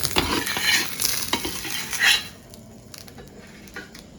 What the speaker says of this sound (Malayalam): ഇത് നമുക്ക് ഈ സവോള ഒന്ന് ടോസ് ചെയ്തെടുക്കാം കേട്ടോ